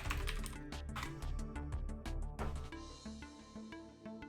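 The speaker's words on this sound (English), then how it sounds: "Typing in the wrong window again." Quick, uneven bursts of keystrokes clatter on a computer keyboard during a game of Exapunks, close and crisp, with the rhythm shifting from rapid taps to a few lighter, spaced presses toward the end.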